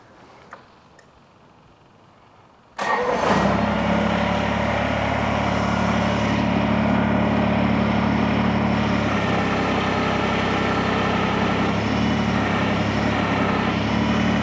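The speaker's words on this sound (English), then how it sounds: "I'm going to start the tractor" A Countyline PHD100 tractor engine turns over and catches at once, then settles into a loud, steady idle rumble that runs on without pause.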